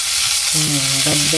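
Cumin seeds and a few black peppercorns roast in hot ghee with a steady, loud sizzle and crackle, joined briefly by a voice.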